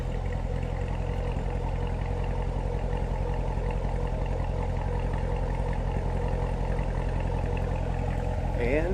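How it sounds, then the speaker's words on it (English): A 2018 Chevrolet Corvette Grand Sport coupe idles with a steady, low, throaty exhaust burble, fairly quiet and even, with a brief voice near the end. "Listen to this nice throaty exhaust note."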